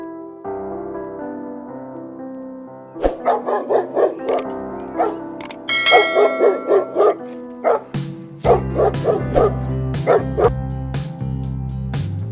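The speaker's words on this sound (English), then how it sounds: "dog. D O G, dog. Dog." A cartoon dog barks in quick bursts of yips and woofs, close and loud, with short pauses between volleys over a steady musical backing.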